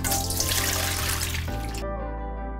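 Water drains off braised beef short ribs for Korean galbi jjim, a steady close pour into a sink that runs broadly and then thins to a quieter trickle near the end.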